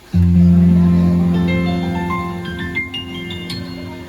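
Piano notes roll upward one after another as an arpeggio run and, with the sustain pedal down, blend into a sustained, ringing chord that slowly fades, played alone and close.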